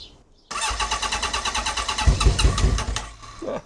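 Honda CB750 café racer motorcycle engine cranking with the choke on: a loud, close starter churning in a rapid even rhythm, rising into a brief stuttering near-catch before winding down, no talking.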